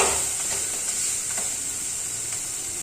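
Wheat egg dosa sizzles steadily in a pan after being flipped, a continuous close hiss with faint scraping touches and no talking.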